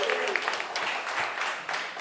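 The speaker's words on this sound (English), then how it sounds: "how about one last round of applause for Greg Horn" An audience at a live radio show applauds a performer, the clapping continuous and moderately loud, with a voice speaking over it.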